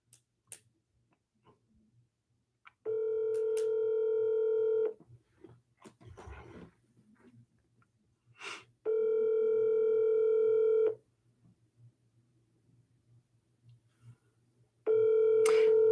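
Telephone call tones during a real estate recruiting cold call: three long steady ringback bursts about two seconds each, separated by pauses with faint clicks and handling noise, heard alone without talk.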